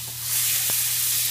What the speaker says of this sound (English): put the butter in your frying pan at a medium-high heat